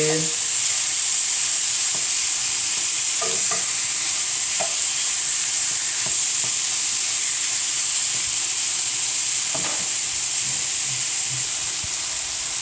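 Beef stew curry cooks slowly in a single pan, giving a loud, steady sizzle and hiss of frying and steam that runs throughout, with a few faint clinks and no voices.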